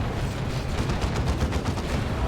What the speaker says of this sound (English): And there's an autocannon coming in from the side.